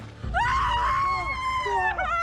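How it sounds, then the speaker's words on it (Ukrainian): A woman screams loudly and close, a long sustained wailing cry that rises and wavers, then breaks and resumes near the end. "З неї почулися крики жінки."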